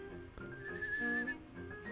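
Steady high whistling from an unseen figure in the horror video game Rule of Rose, a thin sustained melodic line rising and fading over soft, low ambient game background, no voices.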